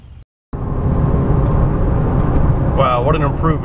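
A Chevy Z71 pickup truck on a road after new torsion bar keys were fitted, with a steady engine and road rumble heard from inside the cab after a brief gap at the start, and a voice briefly heard near the end.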